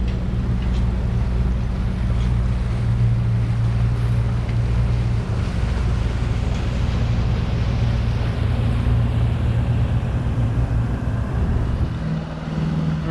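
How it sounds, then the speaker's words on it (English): Shrimp boats motoring past on Gulf of Mexico waters, a continuous low engine drone with a steady hum, fairly close and alone, easing slightly toward the end. "Clankety clank. Here comes the shrimp boats."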